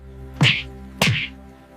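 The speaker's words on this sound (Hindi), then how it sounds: "किस हक से आपने इन्हें थप्पड़ मारा?" Two hard slaps across the face in a Hindi drama scene, loud and close, landing about half a second apart with nothing else heard between them.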